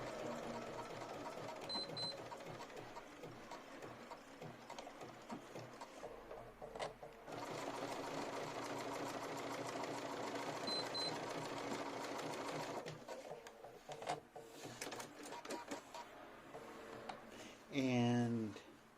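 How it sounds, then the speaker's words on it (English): A sewing machine stitches lace motif petals together, running in steady mechanical bursts with a long continuous stretch, fairly quiet and close, ending with a short whirring sound. "So what we're going to do now is sew these petals together."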